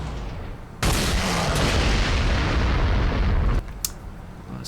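Artillery bombardment in the strategy video game Panzer Corps 2: a sustained, loud roaring barrage of booms and explosions lasting several seconds, then a sudden cutoff with a couple of faint pops.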